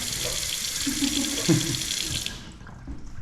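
Water gushes from a newly installed tap in a grow room build, a steady loud rush with a few clunks of handling before the flow shuts off abruptly near the end.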